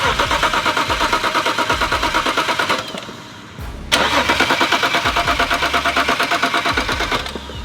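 A twin-turbo BMW 335i engine cranks with rapid, rhythmic turning over, pauses briefly, then cranks again steadily, loud and close throughout.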